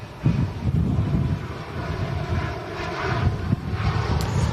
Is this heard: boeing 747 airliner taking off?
yes